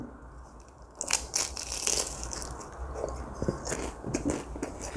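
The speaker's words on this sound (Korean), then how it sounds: "야 진짜 엄청 바삭바삭하네 갈라질 정도로 바삭바삭한데" Crisp bites into a thin-crust Pizza Hut Mega Crunch pizza topped with potato, heard as loud close crunches and cracking that repeat over several seconds with no talking.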